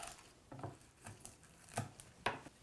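A knife slicing a bunch of Tuscan black kale into wide ribbons on a cutting board, four or five soft separate chops at an uneven pace, close and quiet.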